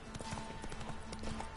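Horse hooves clip-clop in quick, even rhythm in a video game, a faint, short run of muffled beats under low background noise.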